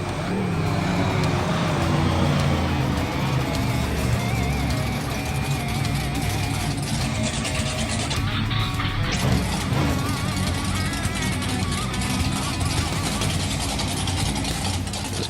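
A monster truck engine in the Rigs of Rods driving simulator, staged at a Bloomsburg, Pennsylvania monster truck event, idles and rumbles loudly and steadily throughout, with a deep low-end drone and occasional rises in revs.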